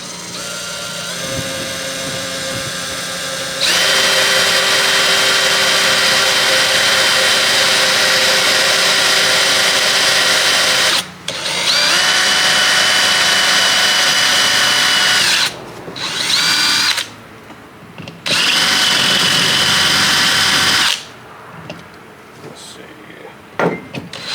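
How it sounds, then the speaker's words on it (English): A power drill boring a hole through a pipe cap, loud whining runs lasting several seconds each, broken by short pauses, with a quieter idle stretch at the start and faint talk nearby. "drill a hole in the cap so we can get our swivel in there"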